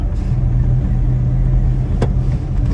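Car engine humming steadily at close range inside a moving car during a driving lesson as the driver shifts into fourth gear, a loud even drone with a brief click partway through.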